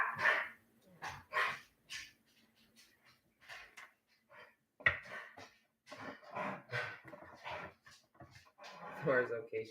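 A dog barks in short bursts, with some whimpering yips, while a person talks nearby.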